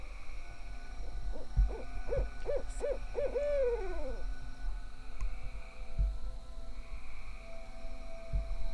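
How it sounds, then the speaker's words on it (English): A barred owl hoots at night in Kentucky woods, a quick series of rhythmic hoots ending in a drawn-out descending note, moderately distant over a low steady hum with occasional faint thumps. "Barred owls will sound just like Bigfoot calls"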